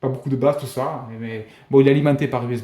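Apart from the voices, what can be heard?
None of the usual background noises is heard.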